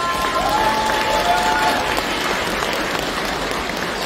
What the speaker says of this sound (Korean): 뜨거운 박수와 환호로 신랑을 응원해 주시면